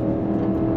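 An Audi RS6-R ABT pulls hard out of a corner, its engine note rising in a brief, steady, close roar.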